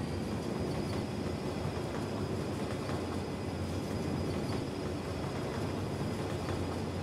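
A slow train limited to 40 km/h runs on rails in Cities Skylines, passing beneath a motorway, with a steady, even rumble that holds level throughout.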